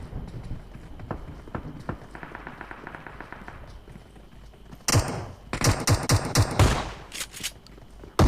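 Rapid bursts of gunfire in the PUBG Mobile battle-royale game, loud cracking volleys that cluster around the latter half after quieter footstep-like patter and movement sounds.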